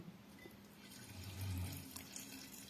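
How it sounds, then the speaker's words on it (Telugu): Water poured into a detox drink made with ginger, a soft steady splashing pour that swells in the middle and then settles, heard alone and fairly close. "సో ఇప్పుడు దీంట్లో కావాల్సినన్ని వాటర్ యాడ్ చేసుకోండి."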